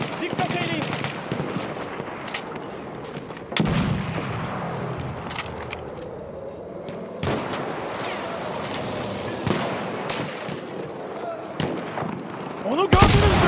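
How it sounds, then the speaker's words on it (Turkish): Bomb blasts on a Battlefield 1 battlefield: a few heavy, sharp explosions spaced several seconds apart over a constant din of distant combat, with a voice shouting in between. "Bomba atıyorum!"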